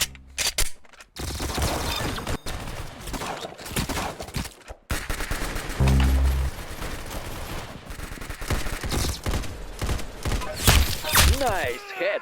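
Gunfire in a first-person shooter game, bursts of rapid shots and single cracks with thuds, fairly close, interrupted by brief silences, with a voice talking over parts of it.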